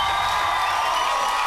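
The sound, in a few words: loud applause from studio audience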